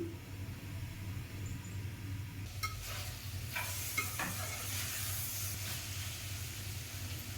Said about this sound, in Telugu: చిక్కుడుకాయ వేసేయాలి ఒక ఫైవ్ మినిట్స్ ఉడికిద్దాము